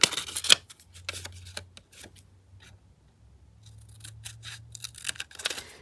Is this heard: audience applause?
no